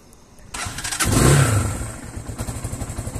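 A Vortex 250 motorcycle engine starts with a short starter whir, catches into a rising roar and settles into a quick, pulsing idle up close.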